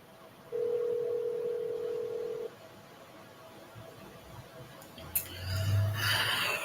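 A telephone dial tone hums steadily for about two seconds, clear and moderately loud, then cuts off, leaving quiet room noise before a burst of louder rustling and a brief low whine.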